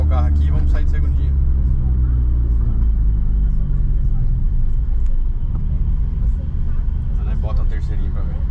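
Car cabin in sport mode with the air conditioning off, engine rumbling steadily as it stops and then pulls away in second gear, under loud low road and motor drone.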